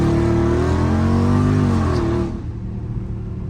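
A Dodge Scat Pack engine revs loud and close, its tone climbing steadily toward redline. After about two seconds it drops to a lower, rougher drone.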